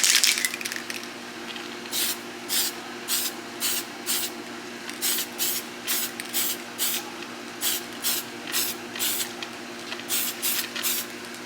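Tamiya spray paint going onto an RC car body in light coats: a long series of short hissing bursts, about a dozen and a half, evenly paced and close by, with no talking.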